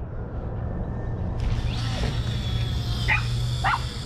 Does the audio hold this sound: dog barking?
yes